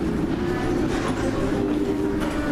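A London Underground train pulling into Euston Square station: a continuous rumbling roar of wheels and carriages, close and steady, with faint rattling.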